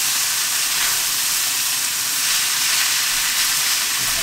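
Noodles hitting a hot pan for a Dall sheep chow mein give off a steady, loud, hissing sizzle, broadband and unbroken from start to finish with no voices over it.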